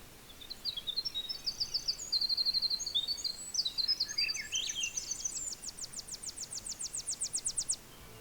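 A small bird sings in a boreal forest, a high, rapid series of trilled phrases, ending in a long even run of quick notes, clear over quiet surroundings.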